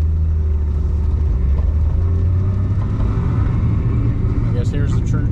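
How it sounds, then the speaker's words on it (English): A Nissan 300ZX rolls over a freshly laid gravel road, heard from inside as a steady, loud low rumble of engine and tires with continuous crunching road noise throughout. "Driving through fresh gravel road."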